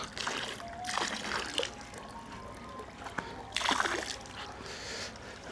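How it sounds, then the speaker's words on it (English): Koi pond treatment is poured around a garden koi pond, giving bursts of splashing and trickling water in several separate pours, moderately close, with faint background noise between them. "I'm just going to pour it around the pond."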